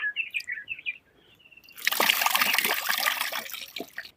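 Water pours and splashes steadily for a couple of seconds after a quieter stretch with faint chirping tones, as soaked lentils are rinsed in water.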